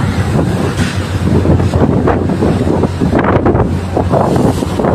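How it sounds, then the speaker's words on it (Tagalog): Strong wind gusting hard across a microphone at Jolo port, loud and buffeting, with low rumble from nearby ships. "grabe yung hangin, oh"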